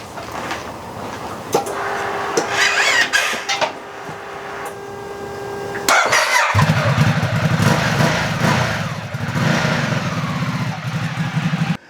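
A motorcycle engine cranks and fires, its sharp start giving way to a steady, loud running drone with a constant low hum under it, close by and with no one speaking.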